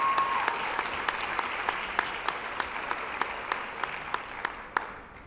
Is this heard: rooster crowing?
no